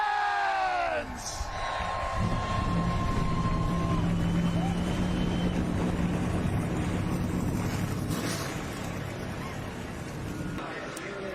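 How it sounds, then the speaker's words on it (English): NASCAR Xfinity Series race cars at the start of the Cabo Wabo 250 on a 2-mile Michigan track, engines roaring loud and continuous, with an announcer talking over the rumble. "Drivers, start your engines!"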